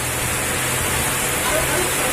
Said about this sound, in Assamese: এয়া বৰষুণ দি আছে